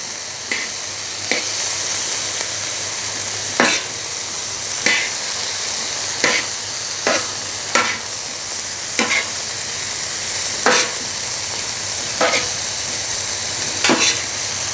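Sliced onions frying in a pan for Turkish sac kavurma: a loud, dense, hissing sizzle filling the whole stretch, punctuated by occasional short clicks and scrapes of stirring, close up with no voices.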